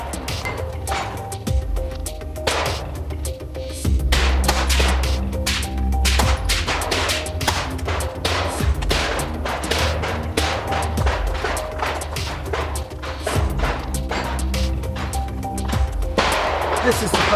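Handgun shots while zeroing a red dot sight at a range, a dense irregular series of sharp cracks with echoes, heard alongside people talking.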